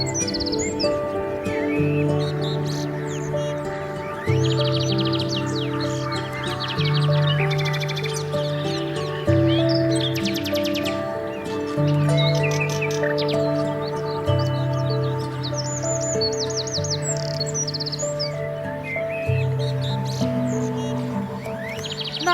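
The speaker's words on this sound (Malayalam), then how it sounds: "ഒരുമിച്ച് വന്ന് കലപില ശബ്ദമുണ്ടാക്കി ചേറിൽ ഇരയെ പിടിച്ച്" A large flock of migratory rosy starlings chatters together around Thoothukudi, a busy mass of high, overlapping chirps and tweets that carries on for the whole stretch over a steady, droning tonal background.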